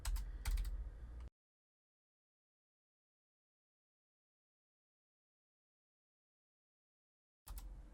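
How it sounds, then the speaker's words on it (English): Someone types a URL on a computer keyboard with quick clustered keystrokes, stops in dead silence for several seconds, then resumes briefly. The typing is close and clear, with no talking. "we're going to type in that URL that we just had"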